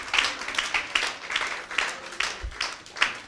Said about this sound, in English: I would clap right there.